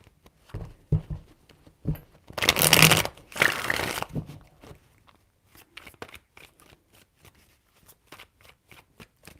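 Tarot cards are shuffled by hand in a few quick riffling bursts, crisp and close, followed by softer taps and card handling.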